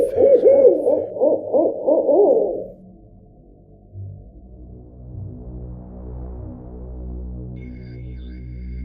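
A spooky owl hooting effect in a forest-night horror scene opens with a rapid run of close, wavering hoots, then fades into a low, throbbing ambient drone.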